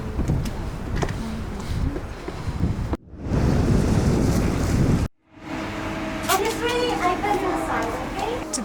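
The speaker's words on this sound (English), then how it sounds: "we just went to the harbour and it's very windy there" Strong wind buffets the microphone at Vernazza harbour in the Cinque Terre, with waves surging underneath in loud rushing stretches broken by abrupt cuts, and voices talking faintly later on.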